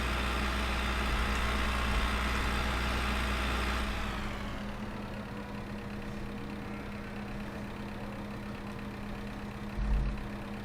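A farm tractor idles in Farming Simulator 15, a steady low engine drone that drops to a quieter, lower rumble partway through, with a brief knock near the end and no talk.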